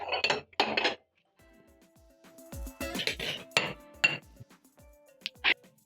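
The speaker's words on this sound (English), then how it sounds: "So I'm going to pick up plates." Ceramic plates are lifted and stacked in a kitchen before Kenyan mukimo is served, making sharp close clinks and clatters in uneven bursts, with a few ringing knocks toward the end and no speech.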